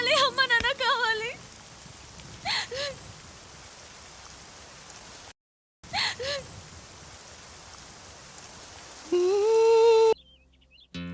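Rain falling in a Telugu comedy film scene, a steady wash of downpour running behind children's voices talking and crying out, with a few brief drops in level and a music swell near the end.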